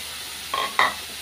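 Amla pieces are stirred in a kadai, giving two short scraping sizzles in quick succession, close and clear, with no voices.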